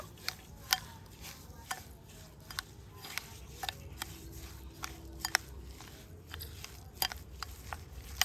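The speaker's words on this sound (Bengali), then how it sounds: "নারকেলটা একটু এইভাবে কুড়ে নিতে হবে ছোট ছোট করে" Coconut grated by hand with a scraper, making small shreds for palm-fruit taler pitha. Quiet, irregular scraping and chopping strokes come one after another at close range, with no voices.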